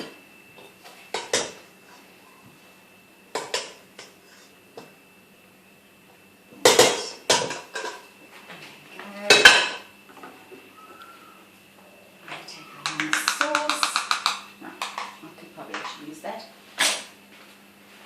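Pasta is dished into big bowls with a serving utensil, giving sharp scattered clinks and scrapes of metal against ceramic, close and intermittent, in a quiet kitchen.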